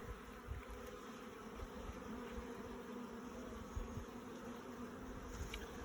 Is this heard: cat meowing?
no